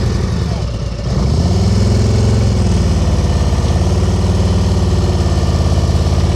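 A motorcycle engine runs during slow-speed riding practice, a steady, loud, low idling rumble that rises slightly in revs after a brief dip, close by, with a voice talking over it.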